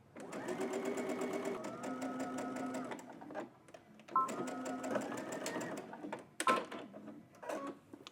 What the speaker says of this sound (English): Now you can head to your serger or whatever you're using to finish off your seams